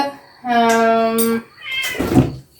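A cat meows twice up close, a long drawn-out call followed by a shorter, rougher one.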